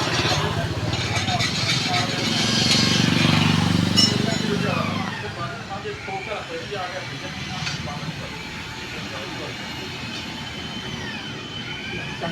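Honda CD110 motorcycle fitted with an Akrapovic exhaust, its engine running steadily, louder for the first few seconds then settling to an even idle-like drone, with voices talking over it.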